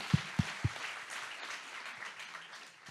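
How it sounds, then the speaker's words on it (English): Applause at a renewable-energy financing panel in Sevilla, a faint, distant wash of audience clapping after a few isolated thumps at the start. "I think that deserves a huge round of applause"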